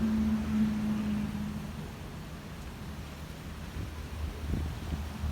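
Steady broadband rush of strong wind through tall trees before rain, with a low tone early on, continuous and moderately loud with no talk.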